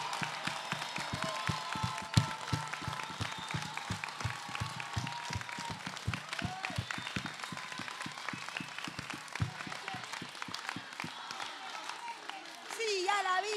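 Crowd at a street march in Argentina applauding, a continuous wash of scattered clapping and cheering from many people, moderately loud and steady throughout, with some voices mixed in.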